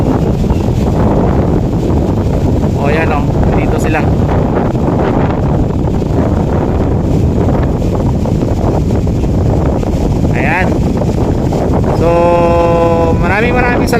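Strong wind on Manila Bay buffets the microphone in a constant heavy roar, with faint voices and brief background sounds poking through.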